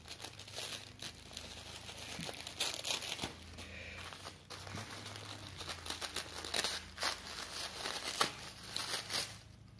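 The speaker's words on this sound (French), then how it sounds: "Donc désolé pour le bruit, mais c'est du papier de soie." Tissue paper crinkles and rustles close by as a package is unwrapped by hand, a continuous busy crackling with sharper crunches throughout and no talking.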